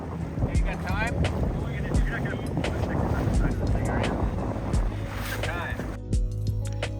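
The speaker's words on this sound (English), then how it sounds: "Let's get this boat moving!" A small sailboat moving under sail during a race, with steady broadband wind and water rush close to the microphone throughout and voices talking over it.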